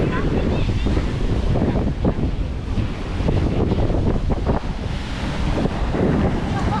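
Ocean surf washing against a seawall with stairs at Prachuap beach, a continuous loud rush of waves mixed with heavy wind buffeting on the microphone.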